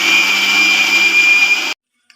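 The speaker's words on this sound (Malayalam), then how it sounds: "നമ്മളിതൊന്ന് മിക്സിയിൽ അടിച്ചെടുത്ത് വരാം കേട്ടോ" Electric mixer grinder blending avocado with milk for juice: a loud steady high-pitched motor whine running continuously, then cutting off abruptly, followed by a faint click in the silence.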